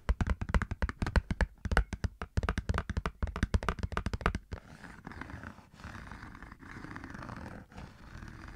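Fingertips tap rapidly on a cardboard ColourPop eyeshadow palette box, a dense run of crisp close-up taps for about four seconds, then softer scratchy handling sounds.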